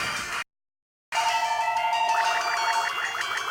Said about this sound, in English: Hey, hang on, the phone is ringing.